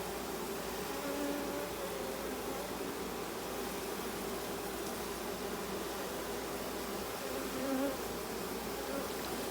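A mating swarm of bees fills a yard with a dense, continuous buzzing hum, individual insects occasionally droning louder as they pass close by.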